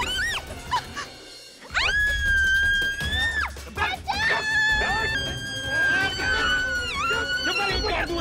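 A woman screams loudly in a Hindi television drama scene, with long high wailing cries that rise and fall and repeat over several seconds over a dense background.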